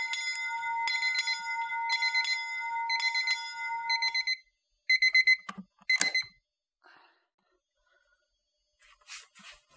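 A mechanical alarm clock rings loud and close in rapid repeated bursts for about four seconds, then gives a few shorter bursts and clinks before falling quiet, in a communal household setting.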